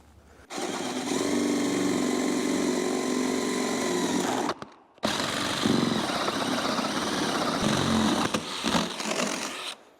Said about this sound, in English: we've got the hole drilled through the steps and on this mezzanine